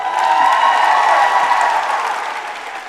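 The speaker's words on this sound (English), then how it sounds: "Give him a round of applause." Applause and cheering from a crowd at a Key Club district convention opening session, a loud, full wash of clapping and voices that tapers slightly at the close.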